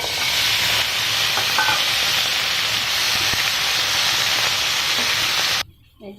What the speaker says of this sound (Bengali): এখন আমি রসুন পেঁয়াজ এগুলোকে ভেজে নিব।